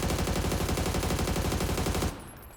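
Rapid automatic gunfire in the video game PUBG, a loud, fast string of evenly spaced shots lasting about two seconds before stopping abruptly.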